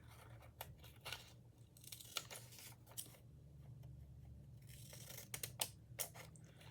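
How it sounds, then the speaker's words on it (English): Scissors snipping paper at close range in a quiet room, a run of short crisp cuts and rustles in irregular bursts, fairly soft, with no talking. "when I use these scissors"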